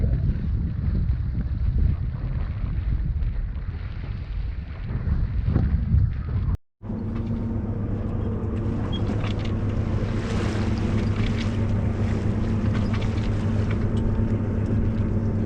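Wind gusts and water wash around a sailing boat in shallow water, a steady loud rush with buffeting on the microphone and a low hum that thickens after a brief cut.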